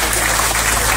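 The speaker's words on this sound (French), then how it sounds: "vous pouvez l'applaudir" Loud, dense crowd applause at a rugby club gathering, a continuous close wash of many hands clapping at once, steady and unbroken throughout the short moment.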